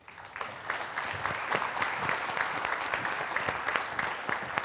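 A studio audience gives dense, sustained applause to welcome guest Ibu Ike Dahlia Kambe on a talk show, many hands clapping steadily and loudly throughout with no voices over it.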